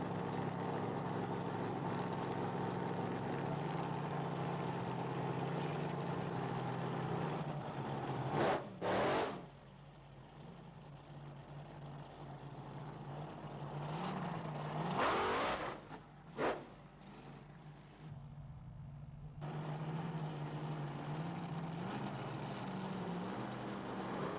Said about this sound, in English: A smoky burnout from the Swede, Tony Brittenson,